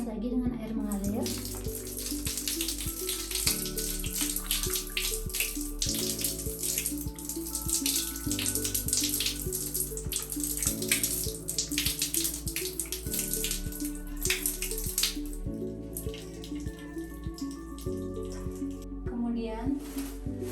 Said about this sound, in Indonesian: Kemudian bilas lagi dengan air mengalir.